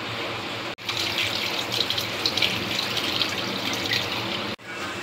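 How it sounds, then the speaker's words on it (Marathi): Water poured over fenugreek leaves to wash them, a steady splashing stream that starts abruptly and cuts off after several seconds. "त्यात थोडं पाणी टाकत आहे, म्हणजे जी माती आहे ती खाली बसणार."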